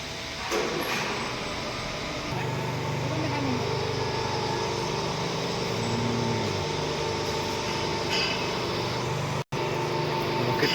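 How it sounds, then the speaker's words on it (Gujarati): A 10-ton crane lifts a printing machine into a truck at a machinery works in Ahmedabad, giving a steady, droning engine and motor hum that continues for about ten seconds with faint mechanical whines and a brief dropout. "જુઓ તમે આ રીતે કેનથી ઉપાડ્યું છે અને આ રીતે અંદર ગાડીમાં ભરવામાં આવે છે"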